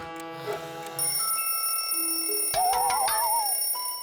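A cartoon telephone rings with bright, bell-like electronic tones and a warbling trill, mixed with playful musical sounds in a busy, animated scene.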